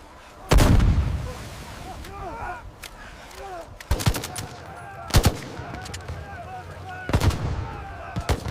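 German machine guns firing from high ground during the 1944 Battle of Arnhem, with loud sharp bursts and single heavy reports recurring every second or two over a rumbling battlefield, alongside a few scattered shouts.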